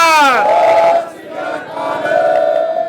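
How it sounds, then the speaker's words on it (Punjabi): A crowd of protesters opposing a CNG plant shouts the Sikh jaikara in unison, one leader's drawn-out call answered by a loud, sustained collective roar. "ਇੱਕ ਵਾਰੀ ਜਕਾਰਾ ਲਾਓ, ਬੋਲੇ ਸੋ ਨਿਹਾਲ"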